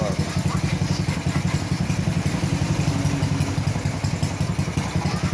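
A motorcycle engine with a newly installed clutch spring and conversion clutch idles close by, a loud, steady, rapid thumping rhythm with a faint mechanical clatter throughout.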